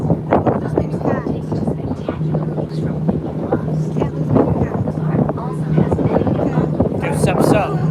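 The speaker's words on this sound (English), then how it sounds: "It's super windy out here." Strong wind buffets the microphone outdoors near the SFO airport, a constant rumbling roar throughout, with people talking loudly over it.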